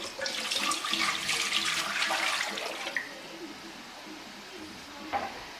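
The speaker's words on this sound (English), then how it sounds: "So put 5 cups of water in the pot." Five cups of water pour into a cooking pot for Thai tom yum soup, a loud rushing splash for about three seconds that then fades to quiet, with a short burst near the end.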